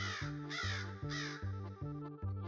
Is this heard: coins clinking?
no